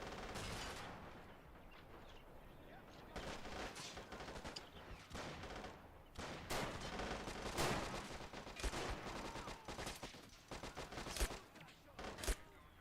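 In a World War II strategy game, anti-tank rifle fire pelts a Panzer I tank: dense, irregular bursts of sharp gunshots and impacts crackling continuously over a busy battle din, with occasional talk.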